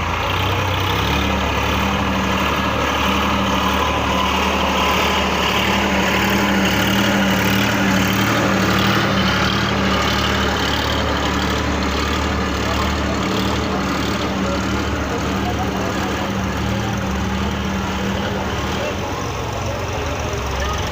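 A Massey tractor 8055 pulls five loaded trolleys at a farm rally, giving a loud, continuous low engine rumble throughout, with voices mixed in.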